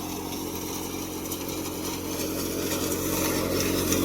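A Jangeer threshing machine runs steadily while threshing soybeans on a village farm, giving a continuous, dense mechanical roar with no talk.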